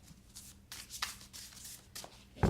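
A Golden Thread tarot deck being shuffled sideways by hand, giving soft papery rustles and a few short riffling bursts, fairly quiet and close, ending in a louder sharp rustle.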